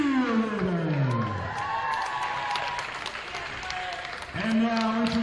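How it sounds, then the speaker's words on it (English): Gym crowd at a high school varsity basketball game applauding for the school cheerleaders, steady clapping beneath an announcer's amplified voice, swelling again near the end. "a round of applause for our electrified Henry Hudson Admiral"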